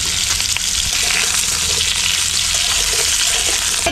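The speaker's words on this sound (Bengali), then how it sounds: "তেল গরম হয়ে গেছে, এবার কুমড়ো আর আলুটা যে কেটে রেখেছিলাম ওটা আগে ভেজে নিচ্ছি।" Cut pumpkin and potato fry in hot oil in a wok, giving a loud, dense, continuous sizzle. The hiss holds steady throughout with no talk over it.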